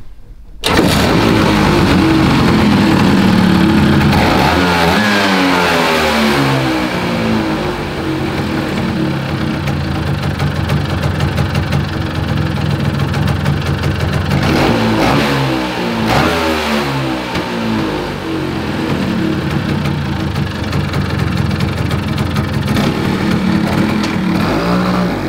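A Vespa PX125 scooter engine fitted with a Malossi 210 Sport kit fires up and revs loudly and close, surging and falling repeatedly over a steady run with no one talking.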